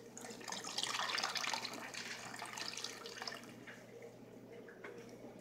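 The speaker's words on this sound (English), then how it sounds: "So you're gonna pour most of the wine in there." Wine pours into a silicone wine bag in a quiet, close trickling splash, strongest in the first couple of seconds and tapering into softer gurgles and drips.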